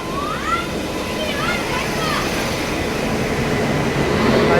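Steady rumble of the Saurashtra Mail passenger train arriving at a station, with brief squealing wheel tones early on beneath a constant noisy background.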